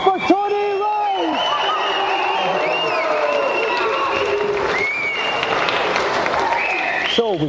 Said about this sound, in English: And a round of applause again for Tony Wright!